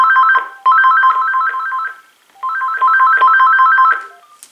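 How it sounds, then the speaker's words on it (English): An AT&T SynJ SB67118 office phone rings loud and close with an electronic warbling ringer, two long trilling bursts separated by a brief pause. "Now let's try to check out the ringer volume."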